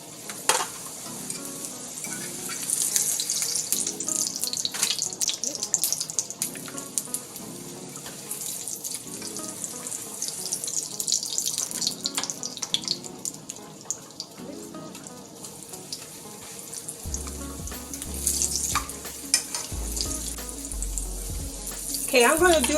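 Corn tortillas softening one after another in hot cooking oil for beef and cheese enchiladas, a steady close sizzle and bubbling with faint clinks of handling, no talking.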